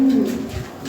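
Lahori pigeons, red-geared, make a short low cooing call close by, a single soft burst under a second with no talking.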